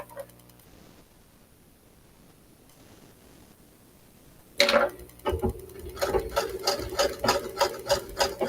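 A sewing machine stitching channels in corded stays starts up after a quiet, faintly ticking stretch, then runs in a steady close rhythmic whirr and clatter.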